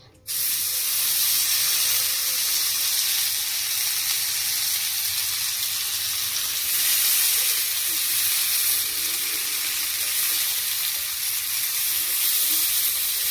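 Paneer tikka roasting in a pan gives a steady, loud broadband sizzle and hiss that starts abruptly and holds for the whole stretch without pause, with no voices over it.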